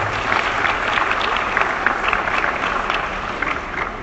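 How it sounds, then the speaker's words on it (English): A seated audience at a formal event applauds after two university officials, an athletics director and a faculty senate president, are introduced; steady, dense clapping fills the whole stretch at an even level without letting up. "Would you please give them a round of applause?"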